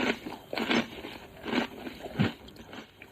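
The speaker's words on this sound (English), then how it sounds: "I can't believe you sit there crunching away." Loud, close crunching of fortune cookies being chewed, with repeated crisp bites and munching bursts about every half second, no talking.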